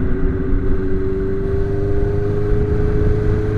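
A Suzuki Bandit 600 motorcycle engine drones steadily while riding, a loud close hum at constant pitch with strong low rumble and wind noise, no talking.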